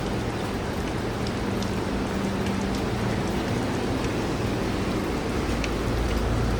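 Steady rain pours down without pause in Malaysia, a dense, even hiss with scattered drips, loud and close.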